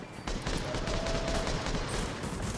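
A turret in the video game The Division fires a sustained, rapid burst of close, loud automatic gunfire for over two seconds without a break.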